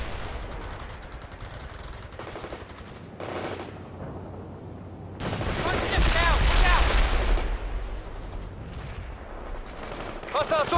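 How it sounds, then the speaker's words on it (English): Artillery strike explosions and gunfire in the video game World in Conflict, a Soviet assault mission: rapid bursts of gunfire build into a loud, dense barrage of booming blasts and crackling shots midway, with busy battle noise throughout. "Artillery strike on our target."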